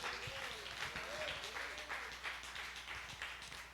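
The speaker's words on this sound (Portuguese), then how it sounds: "Aplauda o Senhor." A church congregation claps during a Portuguese-language celebration worship service, a moderate, somewhat distant patter of hands lasting a few seconds, with voices and sung or spoken sounds running over it.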